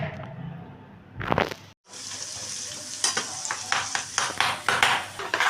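Rice stir-fried in a hot pan for egg fried rice gives a steady sizzle, with repeated scraping and stirring strokes growing louder and more rhythmic in the second half. No voices.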